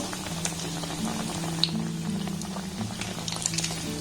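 Small pieces of bread and egg deep-frying in oil, a fine bubbling crackle with scattered pops and a low steady hum beneath.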